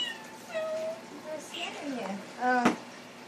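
A pet cat meows several times at an indoor Christmas gathering, with drawn-out, wavering cries close by under ongoing chatter and a voice.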